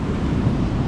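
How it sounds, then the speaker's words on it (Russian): Stormy winter sea waves crash on a Turkish shore in December, a steady, loud, low roar of surf mixed with gusty wind buffeting the microphone, with no voices. "Смотрите, как волны захлестывают."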